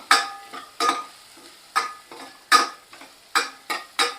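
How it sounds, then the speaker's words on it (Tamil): Garlic cloves are stirred and sautéed in a pan for sambar. About eight sharp, rhythmic scraping strokes stand out over a faint sizzle, with no talking. "அதோட ஒரு பத்து பல்லு பூண்டு ஆட் பண்ணிக்கிறேன் நல்லா வதக்கிக்கலாம்"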